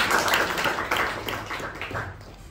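A small audience claps at a Toastmasters meeting, a brief burst of dense, fairly close applause that slowly thins and fades out over a couple of seconds.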